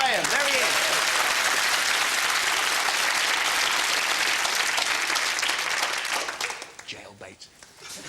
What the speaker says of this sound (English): Round of applause for Graham